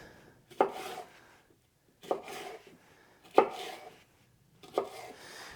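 A knife slicing vegetables into long strips on a board, four crisp separate cuts at an even unhurried pace, close and clear with no talking.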